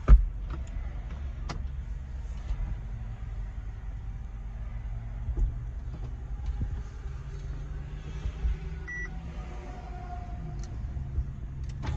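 The electric convertible top of a 2011 Audi A5 closes with a low, steady motor hum and a few soft mechanical clicks and thumps, heard faint and close in a quiet setting.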